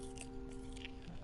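Faint biting and chewing sounds in the video game What Remains of Edith Finch, a few soft crunches over a quiet, steady background hum.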